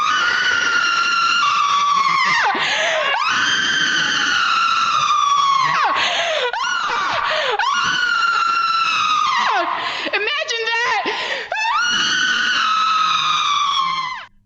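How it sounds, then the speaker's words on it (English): A person screams continuously in long, loud, harmonic wails broken by brief gasps for breath, close and alone for about fourteen seconds. "I am going to spend the next minute screaming."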